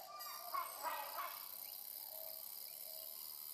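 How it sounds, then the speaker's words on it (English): Morning cicadas buzz in a thin, steady high drone, joined early on by a few brighter chirping calls, faint and distant with no speech. "And these are cicadas."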